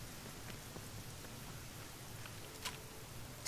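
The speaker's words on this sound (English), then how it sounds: "Why is it still raining?" Rain falls steadily in the video game Fallout New Vegas as a soft, even patter with a few faint droplet ticks, quiet and continuous, and there is no talking.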